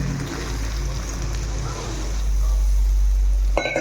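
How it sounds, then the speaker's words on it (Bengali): Water is poured into a pan of fried potatoes and spices, making a loud, close rush that swells and rumbles for a few seconds before a brief clatter at the end. "এবার জল দিয়ে দেবো।"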